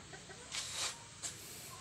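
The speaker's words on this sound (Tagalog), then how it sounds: "Mga manok." Chickens in a rural Filipino yard, a few soft clucks rising over steady background hiss, faint and somewhat distant, with no talking.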